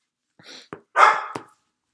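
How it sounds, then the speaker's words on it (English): A puppy gives a short burst of barks: a small yip, then a louder sharp bark and a quick final yelp, close by in an otherwise quiet room. "My puppy is angry this morning."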